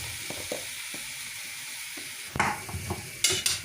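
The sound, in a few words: vegetables frying in a pan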